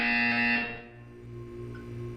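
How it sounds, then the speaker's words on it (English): An electronic buzzer in the video game Portal 2 sounds one loud, harsh tone that cuts off after about half a second and leaves a fading hum. "You will hear a buzzer."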